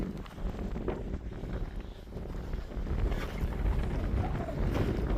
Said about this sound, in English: It is a bit windy out here.